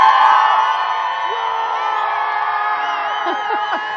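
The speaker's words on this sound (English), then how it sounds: "this crew behind me, they've committed to cheer more loudly than the BE4s" A crowd of Blue Origin employees cheers loudly for the New Glenn rocket launch, with sustained shouting, whoops and rising yells blending into a dense, excited roar.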